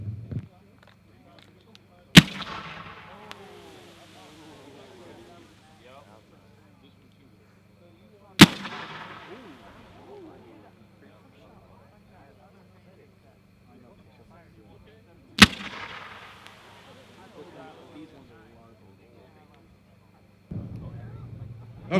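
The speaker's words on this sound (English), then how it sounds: "The number 11 are 13 shot fan slices by Dominator Pro." Dominator Pro 13-shot fan slice fireworks fire at a product demo: three sharp, loud booming launches spaced several seconds apart, each trailing off into crackling and echo, with a low steady hum underneath.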